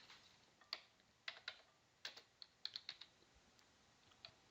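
About a dozen sharp keystrokes on a computer keyboard as a short command is typed, coming in quick irregular clusters, close and fairly quiet, with no voices.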